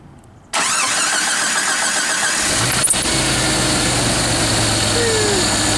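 A car engine cranks and catches after a quiet pause, switched on with a remote start switch, then settles into a steady, loud, close idle with a brief mechanical clatter partway through.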